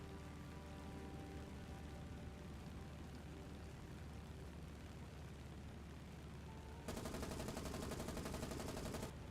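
Gunfire from an armed transport in the naval combat video game War On The Sea, a low rumbling barrage that breaks into a loud, steady rapid-fire burst near the end, with no talk.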